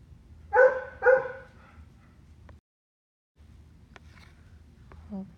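A dog barks twice in quick succession indoors, fairly close, then only soft room noise and a few faint clicks follow, with no talking.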